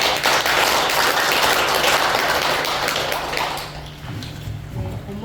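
Dense, steady crowd applause fills a Buddhist dharma assembly hall, many hands clapping together at fairly high volume before thinning slightly toward the end.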